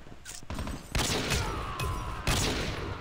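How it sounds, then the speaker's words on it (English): Bursts of automatic gunfire from a sentry gun in the Call of Duty Mobile video game come in several loud, rapid fusillades with brief gaps, busy game sound without speech. "Sentry gun for the win."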